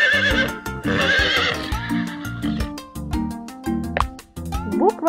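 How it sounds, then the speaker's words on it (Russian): A cartoon horse neighs and whinnies over light background music, with a clip-clop rhythm of hooves; the calls are loud and close, with a rising whinny near the end. "Лошадь."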